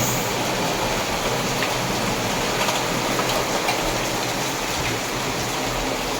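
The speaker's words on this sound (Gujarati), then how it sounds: "હારામાં હારો વરસાદ મસ્ત આવી ગયો છે" Heavy monsoon rain pours down steadily in Rajkot, a dense, even wash of noise that continues unbroken from start to finish with no voices.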